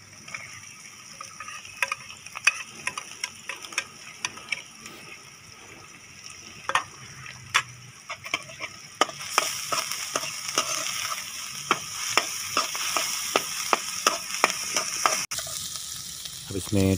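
Finely chopped green chili frying in a little ghee for egg macaroni, a soft crackle that swells into a louder steady sizzle, with a spoon scraping and tapping the pan.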